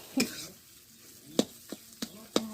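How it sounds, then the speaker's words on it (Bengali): Potatoes frying with browned onions in a home kitchen pan, stirred with a few sharp scraping clinks spaced apart over a faint low sizzle, with no talk. "লাল লাল করে ভেজে নেব।"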